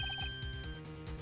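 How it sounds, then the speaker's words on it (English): A phone ringtone in a video game, a quick trilling ring repeated several times in short bursts at the start, over low music that carries on after it stops. "I heard a phone ring just now."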